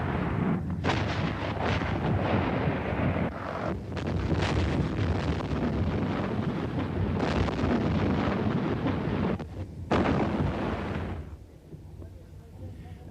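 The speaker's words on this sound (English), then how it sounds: "as the artillery sought out PLO positions and lines of communication." Artillery fire on positions straddling the main road into Beirut, a continuous roar of heavy booms and rumbling blasts with wind-like noise, broken by brief gaps, loud and sustained under a voice.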